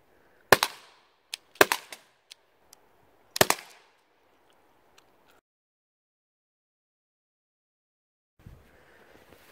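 Sharp pops from an Umarex HDR 50 .50 caliber paintball revolver firing at targets: three loud shots spaced about a second apart, each with a short ringing tail and a few smaller clacks between them, then quiet and a faint rustle.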